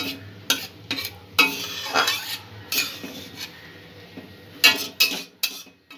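A fruit salad mixture with a little cumin powder is stirred and brought to a simmer in a pan over a medium-low gas flame, with a spoon clinking and scraping against the metal over a faint sizzle.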